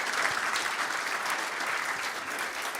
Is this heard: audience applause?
yes